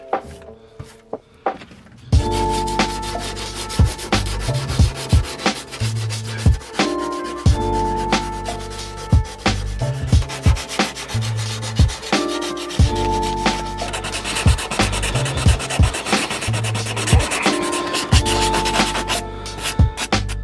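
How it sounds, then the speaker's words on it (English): Hand sanding with 120 grit sandpaper on the rusty wheel arch of a Ford Mondeo ST, loud close rasping strokes in a steady back-and-forth rhythm with a few knocks in between. No one speaks. "I actually ended up just doing it by hand, just used a piece of 120 grit sandpaper and just sort of went at it"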